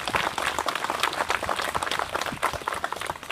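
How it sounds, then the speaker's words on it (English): A crowd applauds two veterans at a Veterans Day parade in Marietta, Ohio, with steady, dense clapping that stays fairly loud for the whole stretch and has no voices over it. "can we please give these 2 honorable veterans a round of applause for their service to this country"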